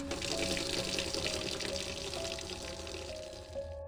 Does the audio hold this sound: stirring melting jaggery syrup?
no